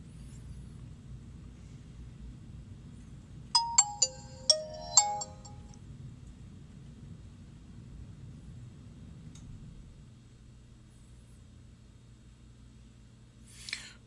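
A Nokia 7.1 smartphone plays a short, bright chime of a few rising tones while booting, standing alone over a low steady background hum in an otherwise quiet room.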